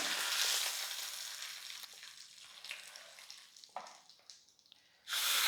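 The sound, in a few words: mustard seeds, red chillies and curry leaves sizzling in tempering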